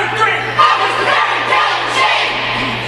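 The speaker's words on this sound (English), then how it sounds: "Rat City giving their cheer." Rat City Roller Girls roller derby team shouting their group cheer in an arena during a bout against Madison, a loud sustained chorus of yelling voices with crowd noise around it.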